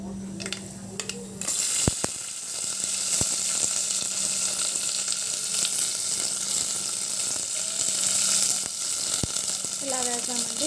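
Green chillies and ginger sizzle in a hot pan with a steady broadband hiss, joined by a louder rush as they drop in, with a few sharp clinks and brief scraping along the way.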